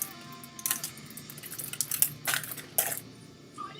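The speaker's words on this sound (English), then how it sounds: "I'm gonna grab a bag that makes noise, of chips that make even more noise." Crinkly crunching and rustling bursts of a potato chip bag being handled and chips crunched, close and intermittent over a quiet background.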